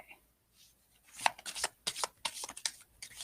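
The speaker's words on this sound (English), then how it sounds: "we're going to shuffle these cards up" Oracle cards are shuffled by hand during a live card reading, a quiet run of soft riffling and slapping flicks that grows busier after the first second, with no talking over it.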